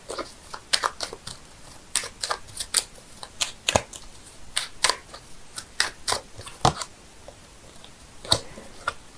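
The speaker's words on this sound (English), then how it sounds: "I'm shuffling the cards here" Rapid riffling and soft slapping of tarot cards being shuffled, in quick repeated bursts with brief pauses, close by and with no talking.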